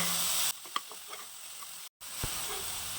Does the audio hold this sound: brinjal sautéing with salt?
yes